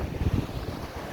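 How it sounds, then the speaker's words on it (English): High river water rushes under Sunderland Bridge in a dense, steady roar, with low rumbling and gusty wind buffeting the microphone. "there's a lot of water coming through here"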